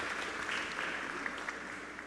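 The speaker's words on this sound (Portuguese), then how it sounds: "uma salva de palmas para o Sérgio aqui" An audience applauds at a sustainability and infrastructure forum, a steady dense patter of clapping filling the short stretch at an even level with no voices over it.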